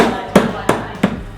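Three sharp, heavy thuds land at an even pace as a mallet pounds seafood shells on a solid surface, close by.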